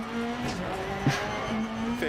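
Rally car engine in the Rally Championship 3 video game on a Greek stage, droning steadily with a fluctuating rev note over about two seconds, tyres briefly squealing, under a co-driver's pace-note voice.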